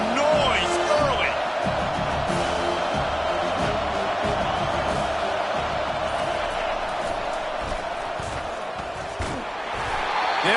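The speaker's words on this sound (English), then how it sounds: "This crowd bringing the energy and noise early." A packed stadium crowd at a college football rivalry game keeps up a dense, continuous roar of cheering and noise for about ten seconds, easing slightly before swelling again near the end.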